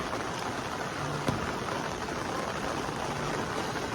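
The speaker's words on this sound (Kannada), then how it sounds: "ಸೊ ಚೆನ್ನಾಗಿ ಮಳೆ ಬರ್ತದೆ" Steady rain falls near a lake on a Kabini trip, a constant dense hiss of drops with no voices, one faint knock partway through.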